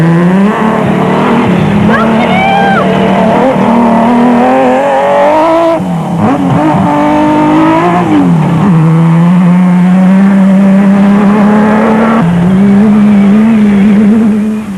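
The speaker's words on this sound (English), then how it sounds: "the race leaders were Anil de Villiers and Francois Jordan in the Nissan hardbody super truck." A Nissan Hardbody off-road super truck races at the 2001 Carnival City 400, its engine droning loud and steady with rising and falling revs throughout and no talk.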